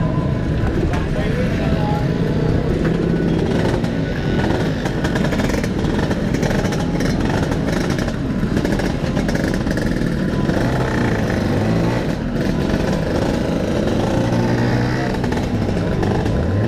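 Vespa scooter engine revving steadily while being ridden, a loud continuous drone with rising and falling throttle bursts, voices talking over it throughout.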